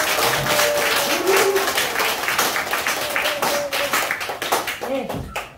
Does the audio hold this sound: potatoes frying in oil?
no